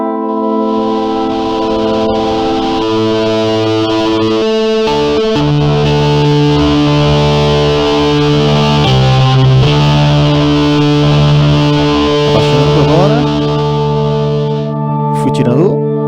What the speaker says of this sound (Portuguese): Quando eu começar a levantar a roda de modulação, ele vai ter distorção.